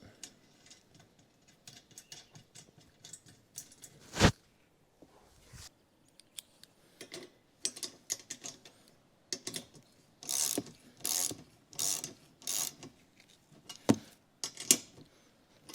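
A ratchet snugs a bolt and lock-washer nut on a Chamberlain garage door opener for an 8 ft door, giving bursts of quick clicking pawl strokes, some sharp loud knocks between them and quiet gaps in between.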